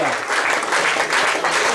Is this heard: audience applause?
yes